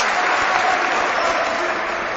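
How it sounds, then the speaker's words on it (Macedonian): Crowd applause fills an arena at a basketball game, MZT Skopje against Karpos Sokoli in the 2016 Macedonian Super Cup, a dense, steady wash of clapping throughout. "Сега аплаузи за"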